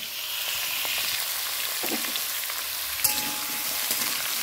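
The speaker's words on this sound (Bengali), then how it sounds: "এবার এগুলো একটু ভেজে নেব" Vegetables fry in a pan with five-spice tempering, dried red chillies, tomato and coriander leaves, giving a steady, even sizzle throughout, with one brief utensil tap partway through and no voices.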